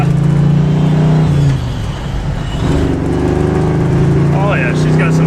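Engine of a sleeper station wagon pulling hard through the gears, a loud steady drone that drops at a shift, then climbs again as revs build, with someone speaking briefly over it.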